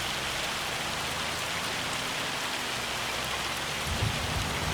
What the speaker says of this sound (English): Yeah, that's pouring down. Like I said, it sure looks like hail to me